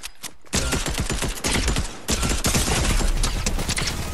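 Dense gunfire in a Fortnite 1v1 match, where a shotgun is being used, with loud, sharp blasts layered over continuous rattling shots that keep going after a brief quiet start.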